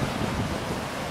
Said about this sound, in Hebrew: ים סוער היום